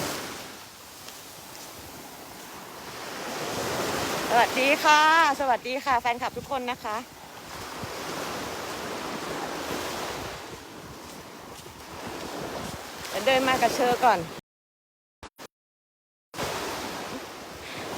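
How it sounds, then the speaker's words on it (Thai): Waves wash onto a beach in a steady roar with wind buffeting the microphone, while someone talks over it in bursts. "ถ้านอนก็จะได้ยินเสียงคลื่น ชัดเจน"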